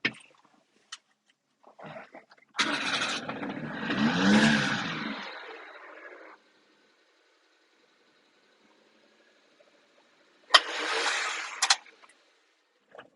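A truck engine cranks and catches with a loud burst, revs and runs for a few seconds and then cuts off, followed by silence and a second short burst near the end.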